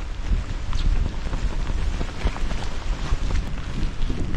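Strong outdoor wind buffets and roars close to the microphone at a campsite, a constant low rumbling gust noise with no talking.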